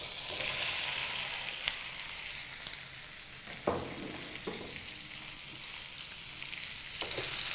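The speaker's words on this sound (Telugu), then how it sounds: "ఇప్పుడు దొండకాయ ముక్కలు వేసుకుందాం ఆయిల్లో." Ivy gourd pieces sizzle steadily in hot turmeric-tinted oil, a constant frying hiss with a few sharp stirring clinks and scrapes of a utensil against the pan, close and fairly quiet with no talking.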